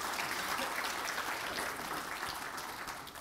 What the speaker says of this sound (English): A big round of applause for Mr.